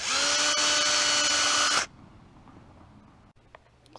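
A power drill cleans up bolt holes on a Honda CB500X motorcycle tail tidy during an R&G Racing kit install, whining loud and steady for about two seconds before cutting off to near quiet.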